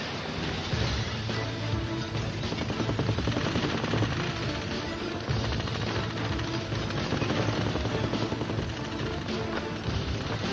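A helicopter in the Tom Clancy's Rainbow Six 3 video game drones steadily under dense, loud combat noise and gunfire, the rotor roar continuous throughout.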